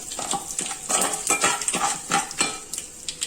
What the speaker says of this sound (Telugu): కొద్దిగా మెంతులు, ఆవాలు, 2 ఎండుమిర్చి వేస్తున్నానండి